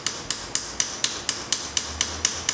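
Hammer tapping a piece of stainless steel trim from behind on an anvil vise: ten sharp, evenly spaced metallic strikes about a quarter second apart, close and clear with no talking.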